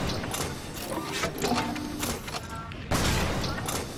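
Heavy weapon fire in Resident Evil 5 Gold Edition blasts through the clip as a dense, loud barrage of repeated booms and impacts, with a sharp heavy burst near the end.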